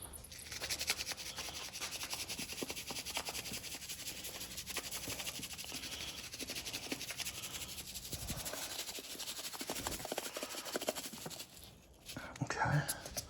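Coffee grounds and eggshells tossed into a fabric worm composting bag give a steady close rubbing, crinkling rustle throughout, with a short louder scrape near the end.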